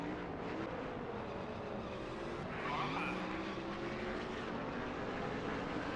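Race cars in the video game NASCAR Thunder 2000 roar around the track as a continuous engine drone with a passing car swelling briefly in the middle, steady and moderately loud with no talking.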